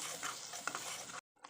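Tomato, garlic and chilli paste sizzles hard in hot oil for a Goroi fish curry, a dense steady frying hiss with faint stirring, cutting off abruptly before a brief return of sizzle.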